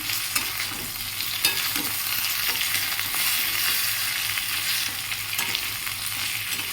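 Potatoes frying in a pan for aloo posto, stirred with steady sizzling and scattered scraping clicks of a spatula, continuous and close, with no talking.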